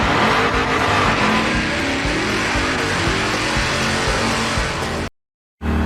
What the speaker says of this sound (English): I'm not gonna be standing out here while they do the burnouts